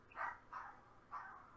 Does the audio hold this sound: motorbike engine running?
no